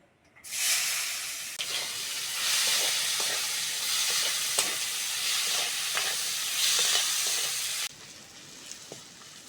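Chopped onion fries in hot oil with dried red chillies and bay leaf, a loud continuous hiss and sizzle starting abruptly, with scattered small crackles, then dropping quieter near the end.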